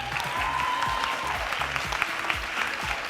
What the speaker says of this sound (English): give us a little round of applause